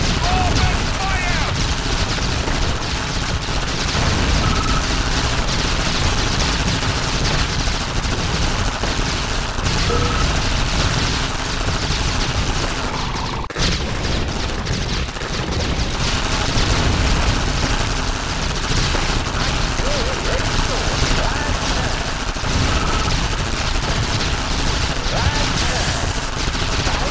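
Massed gunfire and explosions from units battling in a Red Alert tower-defense match, a loud, unbroken wall of rattling shots and booms lasting the whole stretch, with game voice announcements mixed in.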